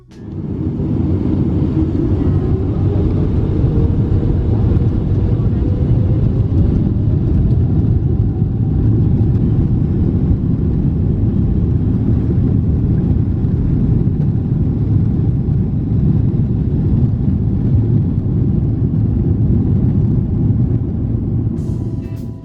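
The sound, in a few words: GE90 jet engine during takeoff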